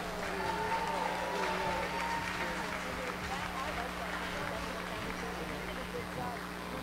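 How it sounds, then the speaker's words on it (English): Audience at a live polka show at Musikfest applauding the band, a steady wash of clapping and cheering over a low hum, with voices mixed in. "How about a round of applause for the boys in the band?"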